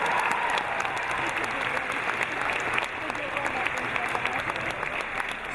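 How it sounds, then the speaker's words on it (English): A large comic con audience applauds in a sustained, even roar of clapping and crowd noise that fills the hall at a steady level throughout. "Give them a round of applause, ladies and gentlemen."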